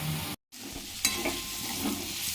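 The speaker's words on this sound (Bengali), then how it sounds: "পটলগুলোকে একদম পাতলা পাতলা করে কেটে নিয়েছি। এটা নুন হলুদ দিয়ে ভেজে নেব।" Thinly sliced pointed gourd frying with salt and turmeric in a pan, a soft continuous sizzle with stirring scrapes, briefly cut to silence near the start.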